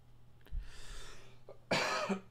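A single person coughs during a card-game draft session: a faint early hack, then one loud, harsh burst of coughing near the end, close up, with no talking.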